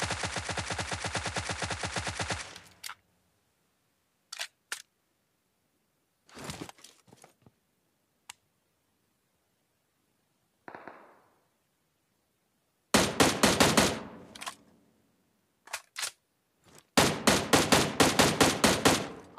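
Automatic gunfire from a Tommy gun and an M16A4 in PUBG, loud rapid bursts at the start and again near the end, with scattered single shots and short gaps of silence between.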